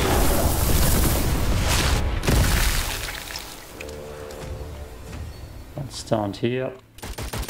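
The Psychopump shotgun fires in Witchfire aboard the Ghost Galleon, with heavy booming blasts over the first couple of seconds. A quieter stretch follows, and a short spoken phrase comes near the end.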